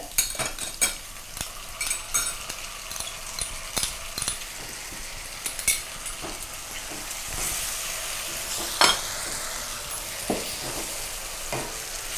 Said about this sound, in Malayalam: ഇപ്പോൾ ഗ്രീൻ ചില്ലി സോസ് ആഡ് ചെയ്ത് നമ്മളൊന്ന് മിക്സ് ചെയ്തിട്ടുണ്ട്.